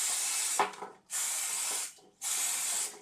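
Two long hissing bursts of aerosol cooking spray, each about a second, with a brief rattle between them, close and clear.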